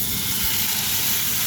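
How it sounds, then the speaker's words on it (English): A halal T-bone steak sizzles in a hot pan, a dense, loud, steady hiss of frying fat that continues without pause and with no talk. "See that sizzling away?"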